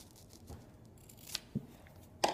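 Scissors snipping hockey stick tape, a few quiet close clicks and one crisp louder snip at the end, with soft handling noise between them in an otherwise quiet room.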